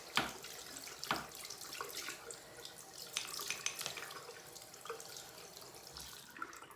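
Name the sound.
tap water running while cleaning paintbrushes with soap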